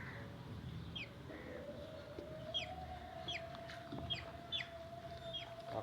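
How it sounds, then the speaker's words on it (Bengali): Black-feathered chickens weighing over 1.8 kg cluck and chirp in short, repeated calls at moderate distance, over a steady background hum and low rumble. "এই হচ্ছে আমার কয়লার মুরগি"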